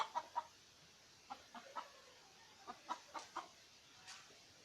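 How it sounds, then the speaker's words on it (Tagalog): A farm chicken clucks in short, separate bursts in a rural village on a rainy day, the calls spaced irregularly and moderately close against quiet background rain. "May chicken."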